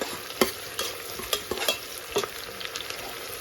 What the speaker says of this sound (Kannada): ಈರುಳ್ಳಿದು ಹಸಿ ಸ್ಮೆಲ್ ಹೋಗಿ ಇದು ಸ್ವಲ್ಪ ಲೈಟ್ ಬ್ರೌನ್ ಆಗಬೇಕು